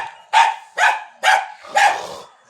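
A dog barks four times in a steady rhythm, each bark loud, close and sharp with brief pauses between, and no voices or other sounds around it.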